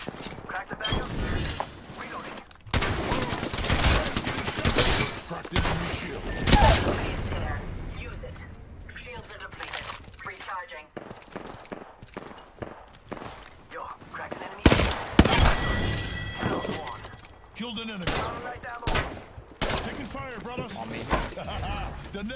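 Apex Legends gunfire crackles in repeated bursts and scattered shots, near and loud, mixed with shattering impacts and a voice talking over much of the fight.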